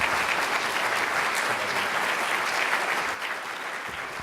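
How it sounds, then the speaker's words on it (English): Enthusiastic applause from a banquet audience at the Stanford Real Estate Hall of Fame dinner, dense continuous clapping that stays loud and then eases slightly near the end. "I think he deserves a round of applause for stepping in to take on this role."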